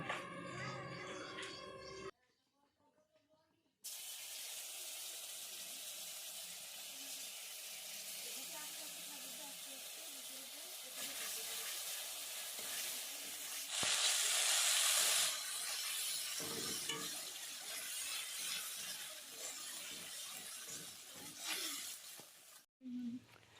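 Ground cumin paste sizzles in a hot pan with whole spices for prawn malai curry, a steady hissing fry that swells louder midway, broken by a brief pause near the start, with some talking in the background.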